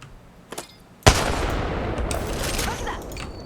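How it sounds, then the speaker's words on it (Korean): Sustained gunfire from an energy-ammo weapon in a shooter game, a sharp crack and then a dense continuous roar of rapid shots lasting over two seconds, close and loud, after a couple of faint earlier pops. "사격한다."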